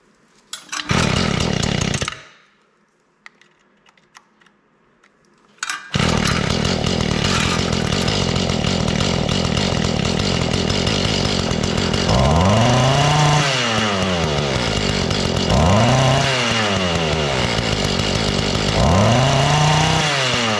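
Mantis cultivator two-stroke engine running rough and refusing to idle, with a brief burst, a few seconds of near silence, then a steady loud drone broken by repeated surging rises and falls in pitch.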